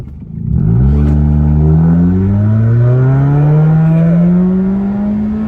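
A car fitted with a RoarPedal throttle response controller, set to sport mode at level 9, revs hard and accelerates, its engine note climbing steadily in pitch. The sound is loud, close and continuous, with no talking.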